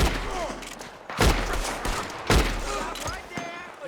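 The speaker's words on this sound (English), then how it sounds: "We're gonna have to shoot our way up there!" Gunfire in Red Dead Redemption 2, several loud, close shots cracking out at irregular intervals with echoing tails, while a voice speaks briefly in between.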